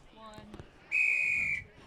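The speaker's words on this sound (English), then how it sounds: "So, there's the first whistle." A single sharp, piercing referee whistle blast lasting over half a second, loud and close, following some faint background talk and a ball bounce, at a polo match.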